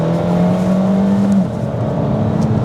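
A 2021 Kia Seltos all-wheel-drive SUV pulls away hard on the throttle, its engine note climbing steadily and then dropping as it shifts, loud and close.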